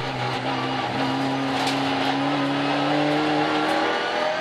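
A race car engine at Zandvoort in the Supercar Challenge, in wet conditions, roaring loud and close, holding a strained, steady drone that climbs slightly in pitch as the car struggles to stop, with no voices.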